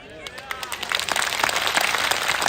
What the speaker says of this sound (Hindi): यहां तालियां तो दोनों हाथ उठाकर बजनी चाहिए।